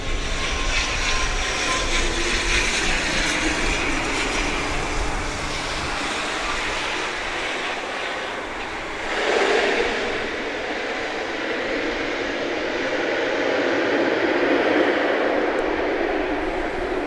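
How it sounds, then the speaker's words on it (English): An ATR-72 turboprop airliner touches down at Owen Roberts International Airport, its engine drone a steady broad roar at a distance, swelling slightly as it passes and rolls out along the runway. "We're about to see it touching down here at Owen Roberts International Airport."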